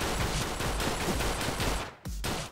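Rapid automatic fire from placeable sentry turrets in UGX Mod v1.1, a video game, a dense sustained clatter of shots with a brief cutoff near the end before the firing resumes.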